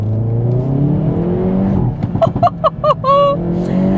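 A Hyundai i30N hot hatchback accelerates hard, its engine note climbing steadily in pitch as the revs build, then breaking off into a shift before pulling again, loud and close from inside the car.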